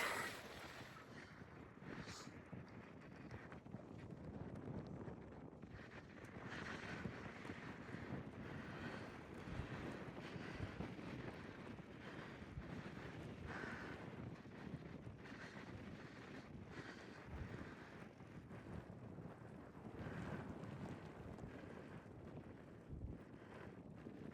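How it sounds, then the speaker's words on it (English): Strong wind roars steadily against the microphone while a cyclist rides outdoors, a constant loud gusty buffeting that persists throughout with no speech. "The wind is very challenging, but it's gonna help me get stronger."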